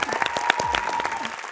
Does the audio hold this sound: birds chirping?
no